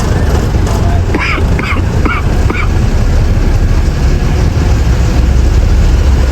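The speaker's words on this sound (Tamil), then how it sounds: "அதில் ரோட்டில் நாய் தான் இருக்குது" Several short dog barks ring out in a quick cluster on a road amid constant loud road noise and engine rumble, fairly distant.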